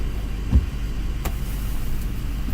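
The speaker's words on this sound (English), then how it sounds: "It is a noisy truck and it's the middle of the night." A noisy truck engine idles steadily at night, a loud close rumble that holds constant throughout, with a few faint clicks over it.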